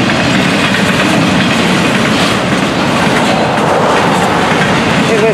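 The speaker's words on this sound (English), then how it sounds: "As each succeeding train packs the ballast down," Train rolling over freshly ballasted track, a loud, close, continuous rumble of wheels with steady clickety-clack rhythm and occasional faint squeals.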